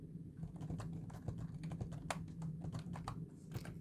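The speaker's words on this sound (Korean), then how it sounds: "계속해서 숫자 쭉 입력을 할게요" Numbers are typed on a computer keyboard, likely the numeric keypad, while filling Excel cells; a quick, steady run of close, crisp key clicks with no talking.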